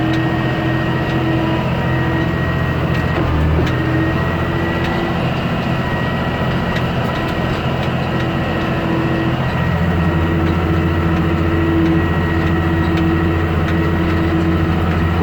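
A Case IH Maxxum 5240 tractor hums steadily on a sunny day while raking hay, its engine drone constant and close throughout, with a brief rumbling shift in pitch partway through and no voices.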